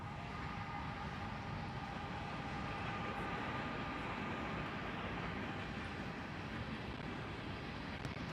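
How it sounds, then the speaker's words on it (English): A train rumbles past an outdoor sports practice field in a steady, loud, continuous roar with a faint high whine on top, holding at full level for the whole stretch without fading. "Good timing for the train."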